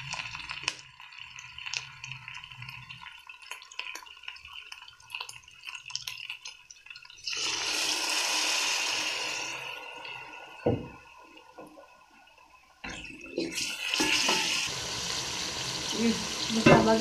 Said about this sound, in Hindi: उसमें थोड़ा सा पानी डाल के तो इसमें डाल के इसको अच्छी तरह से पका लेते हैं